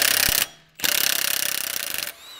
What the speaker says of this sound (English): we need to take off the axle shaft nut